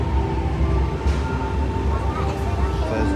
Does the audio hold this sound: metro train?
yes